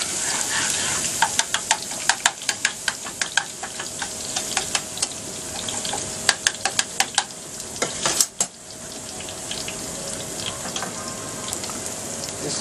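Garlic and onions sizzle and crackle in an aluminium pan for tomato sauce, a steady frying hiss with bursts of sharp pops and spatula clicks, fairly close and without talk.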